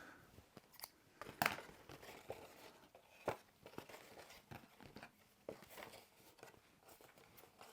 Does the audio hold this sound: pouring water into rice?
no